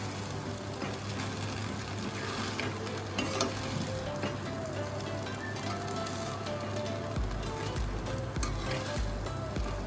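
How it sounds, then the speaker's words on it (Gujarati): Veg Hyderabadi biryani with lemon juice being stirred in a pan, a steady soft sizzle with scraping and stirring throughout and no talk. "બે મિનિટ માટે આપણે હલાવી લઈશું"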